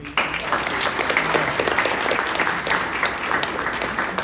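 Audience applause welcoming guest speaker Jim Woodrick at a history talk, a steady, dense clapping from a large crowd that holds at full strength throughout.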